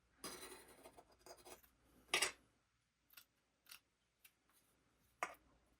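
Material for handmade wood earrings being cut, with a few short, close snips and scratchy cuts separated by quiet pauses.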